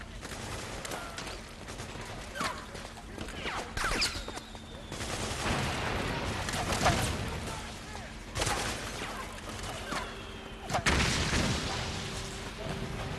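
Gunfire and booming impacts in Metal Gear Solid 4: Guns of the Patriots, scattered shots and a thick mechanical battle din that stays loud throughout, with a voice talking over it.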